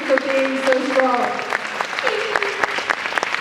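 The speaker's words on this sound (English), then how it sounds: "can we all like just like give him some applause?" Convention panel audience bursts into loud, close applause with dense clapping throughout, a voice speaking briefly over it.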